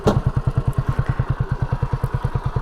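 A Honda CB250RS motorcycle engine idles after a top-end rebuild, a close, loud, even rapid thumping beat that stays steady throughout.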